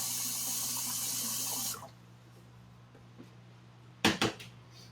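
Water runs from a kitchen tap for a top-up of a pot of boiling water while potatoes cook, a loud steady gush for nearly two seconds that stops abruptly, followed by a low hum and two quick clanks.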